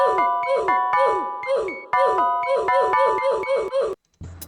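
A short, pitched-down Roblox "oof" grunt repeats in a quick rhythmic pattern like a kick drum beneath chiming bell-like notes, then cuts off abruptly.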